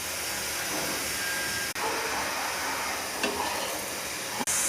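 Semolina and wheat flatbread roasting on a hot pan, giving a broad steady hiss and sizzle with two sudden brief dropouts.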